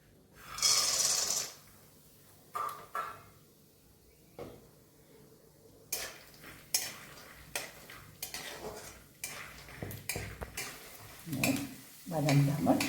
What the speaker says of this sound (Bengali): বাদামটা আমার ভাজা হয়ে গেছে